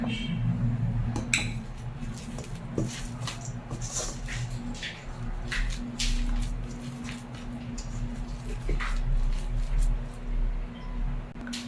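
Spring onions and onions are chopped, with irregular light knife taps and clinks against a board or bowl repeating through the clip over a low steady hum.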